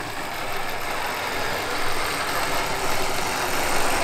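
A model Class 29 Bo-Bo diesel locomotive runs along a model railway track, giving a steady, close whirring motor hum and rolling noise that swells slightly in places, with no speech.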